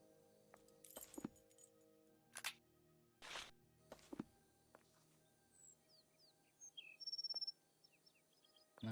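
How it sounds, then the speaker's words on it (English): In the Sherlock Holmes Versus Arsène Lupin video game, a strange bird call comes from the shrubs as sharp, scattered cracks alternating with short, smooth, high chirps, quiet and sparse over near silence. "A strange call, like a series of cracks alternating with smooth notes."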